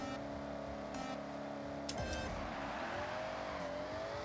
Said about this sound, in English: make sure we do a little burnout here, as much as you can at least